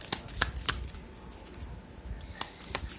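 Oracle cards being shuffled by hand: several crisp riffles and snaps close by, spaced unevenly through a quiet stretch with no speech.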